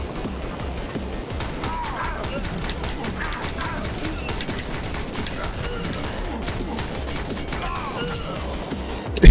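Rapid gunfire in the Speed Limit video game, dense bursts of shots rattling continuously with crashes and in-game commotion throughout.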